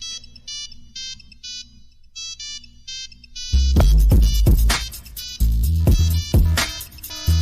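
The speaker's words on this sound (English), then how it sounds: "where is that Nokia phone coming from?" A Nokia phone ringtone plays its familiar beeping melody, first thin and moderate, then suddenly much louder and fuller with heavy low thumps for the rest of the ring.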